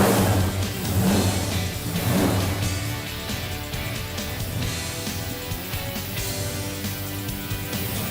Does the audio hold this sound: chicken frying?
no